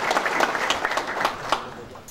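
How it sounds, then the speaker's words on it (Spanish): Audience applause at the Agrodinámica 2023 launch event, a sustained wash of many hands clapping close and loud, with a few sharper claps standing out before it tapers off. "quiero pedir un fuerte aplauso"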